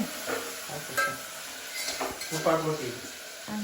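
Chillies frying in a home kitchen pan for a pink chapati recipe, with soft sizzling, utensil scrapes and clinks, and a person talking nearby over the cooking.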